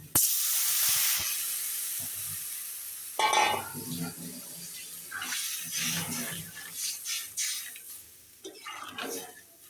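Water poured into a hot pan of frying spices bursts into a loud hissing spray of steam, then settles into bubbling and scattered stirring clatter.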